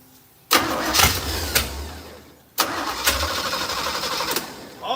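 A car engine with air ride seats cranks and catches twice, each start bursting up loudly from near silence and settling into a steady close idle, with no talking.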